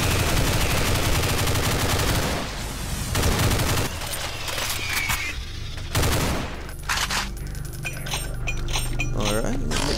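Rapid rifle fire in a Doom-style shooter running the PB3 Project Black Metal add-on, mowing down a group of imps: loud, dense bursts of shots with brief lulls, close and continuous across the whole stretch.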